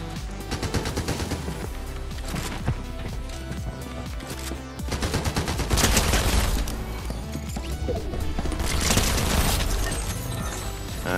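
Rapid automatic fire from dual micro SMGs in Fortnite, dense bursts of clattering shots with crashes and impacts, loud and continuous with heavier volleys in the middle and end.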